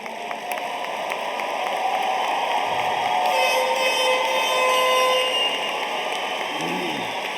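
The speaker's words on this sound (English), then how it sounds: "so we can give you a round of applause" Outdoor crowd applause at a high school commencement ceremony, honoring veterans in attendance; a steady, dense wash of clapping that swells slightly in the middle and carries on evenly throughout.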